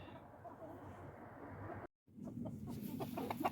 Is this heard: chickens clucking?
yes